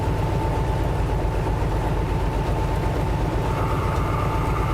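A locomotive in the Derail Valley train simulator runs steadily, a continuous low engine rumble with rail noise and a faint steady tone above it, loud and unbroken throughout with no voices.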